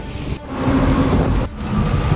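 A train rumbles past in a steady, loud, close roar, with two brief dropouts in the sound and no voices.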